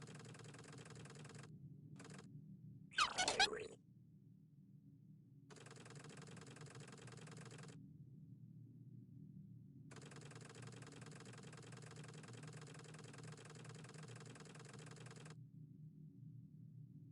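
A small engine on a town model in a video game runs with a steady mechanical chugging hum, cut by gaps of silence and one brief clattering burst near the start, moderately quiet.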